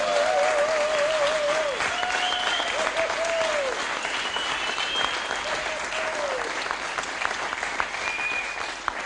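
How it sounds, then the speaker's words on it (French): An audience at a live JCE Tours 2018 radio event applauds in a steady, full clapping sound, with a voice speaking over it at several points. "Est-ce que vous voulez bien une nouvelle fois applaudir ?"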